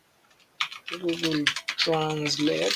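Computer keyboard typing in bursts of quick key taps, mixed with a voice speaking over it.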